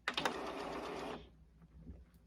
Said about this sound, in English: Your cartridges will move over into place.